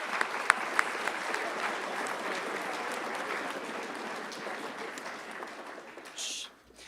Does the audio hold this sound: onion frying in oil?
no